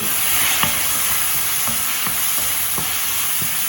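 A drumstick and onion curry is stirred in a hot pan under a loud, constant frying hiss, with occasional soft spatula scrapes and knocks heard close by.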